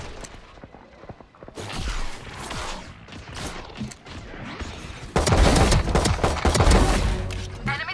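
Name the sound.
gunfire in the video game Valorant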